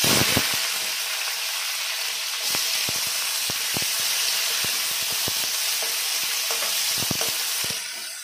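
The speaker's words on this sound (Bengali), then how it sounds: "এবার দিয়ে দেব পেঁয়াজ" Onions fry in hot oil in a pan, a loud continuous sizzle and hiss up close, punctuated by repeated sharp clicks and taps of stirring.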